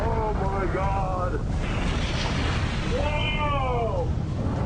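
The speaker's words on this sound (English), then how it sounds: "That's just a little gust." A strong gust of wind roaring over the open sea aboard an Alaskan crab fishing boat, with steady broadband wind rumble throughout and voices shouting above it.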